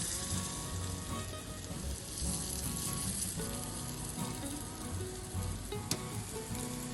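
Corn appe batter frying gently in an appe pan over low gas, a steady soft sizzle with faint crackles throughout, close and continuous with no voices.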